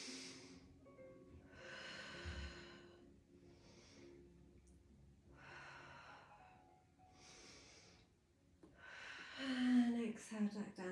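Deep, slow yoga breaths drawn in and pushed out through the nose in a steady rhythm, about five long airy breaths close to the mic, ending in a louder exhale with a brief squeak.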